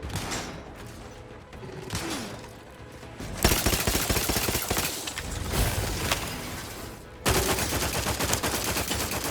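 Gunfire from The Outer Worlds 2 crackles in dense, loud bursts. Rapid automatic shots come in sharp volleys with brief quieter gaps between them, and there is no talking.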